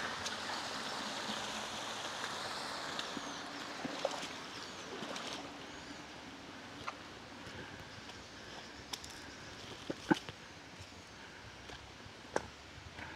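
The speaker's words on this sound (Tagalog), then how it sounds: "tubig na dumadaloy" Clear river water flows at Kaytitinga River in Alfonso, Cavite, a steady soft rush with occasional sharp splashes or knocks nearby.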